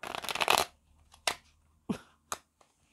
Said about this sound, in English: One shuffle, cards are very stiff.